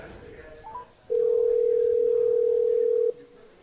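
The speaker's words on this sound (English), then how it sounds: "Rex is dialing him up right now." A single steady telephone tone sounds for about two seconds during a call being placed, loud and close, with faint background murmur before and after.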